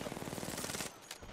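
Rapid automatic gunfire in Apex Legends, a dense burst of shots for most of the moment that cuts off near the end, leaving quieter game ambience.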